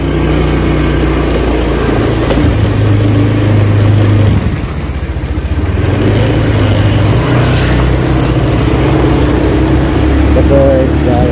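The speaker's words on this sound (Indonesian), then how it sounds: "Oke, kita pakai motor aja jalan-jalan ya." Motorbike engine idling loudly up close, dipping briefly, then revving and pulling away as the ride sets off on a rural plantation path; a voice talks over the engine.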